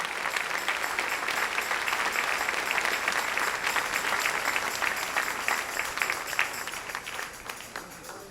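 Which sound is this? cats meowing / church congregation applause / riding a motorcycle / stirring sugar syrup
church congregation applause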